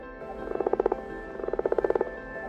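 Common frogs in the Beaufortain mountains croaking in two rapid pulsing bursts, each a quick train of low purring croaks, close and clear against a quiet natural background.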